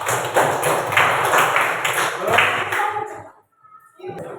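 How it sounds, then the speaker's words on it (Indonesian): Classroom applause as a class claps for itself: dense clapping with some voices mixed in fills the first three seconds loud and close, then stops abruptly, with brief light taps and noise at the end. "Oke, tepuk tangan buat kita semua"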